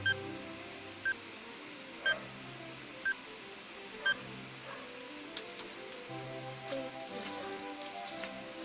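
A countdown timer beeps five times at one-second intervals, short sharp electronic bleeps over a faint background hum, then goes quiet.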